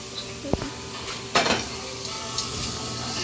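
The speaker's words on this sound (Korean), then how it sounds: "누가 이렇게 볶는 거예요?" Ingredients stir-fried in a pan before making Fontana spaghetti give a steady close sizzle, with a sharp utensil clank against the pan near the start and a louder scraping clatter about a second later.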